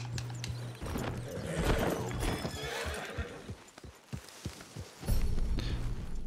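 A horse is ridden in Red Dead Redemption 2 and whinnies loudly, with close hoof clip-clops and gear rattling throughout and a second whinny toward the end.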